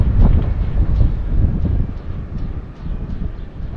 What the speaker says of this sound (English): We're just going to hold up for that crazy wind to pass.